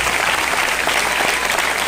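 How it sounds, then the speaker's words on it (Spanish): A church congregation gives loud, sustained applause, dense clapping from many people filling the whole short stretch with no break. "Denle un aplauso al Señor para ver si usted está contento."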